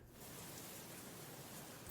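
Steady, faint rain ambience plays in the background of the Strange Jigsaws video game, a soft continuous hiss of falling rain with no other sounds.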